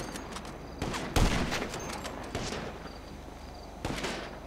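Automatic gunfire in GTA 5 online play, with several sharp bursts and cracks spread across a few seconds, loud and close over a steady background.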